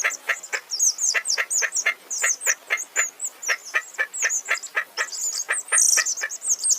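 Mother hen and her chicks grazing on grass on a farm, a rapid series of high, sharp peeping calls repeating in quick irregular bursts, close and clear with no background noise.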